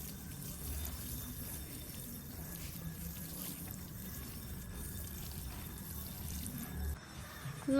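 Soft, continuous trickling water poured onto plants in a small vegetable garden by a skate park, a faint steady flow with light splashing and no talk.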